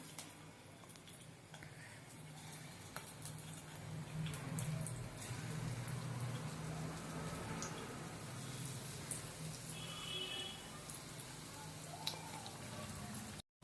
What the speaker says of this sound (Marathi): यामध्ये आपण या आळूच्या वड्या फ्राय करून घेऊया।